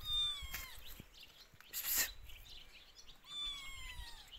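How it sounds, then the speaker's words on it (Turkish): Newborn kittens in a Turkish village mew in thin, high, repeated cries, several separate calls spread across the span at close range, with faint outdoor background and no talking. "İyi la Salih, dur kedileri çekiyoruz la."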